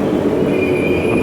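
A train at Fremantle station in Western Australia, its steady rumble carrying a high wheel squeal that rises partway through, heard loud and close with no voices over it.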